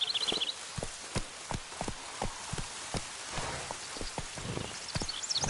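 Roach, a horse in The Witcher 3, running with steady hoof clops on ground, evenly spaced and moderately close, over a soft rain-like background hiss.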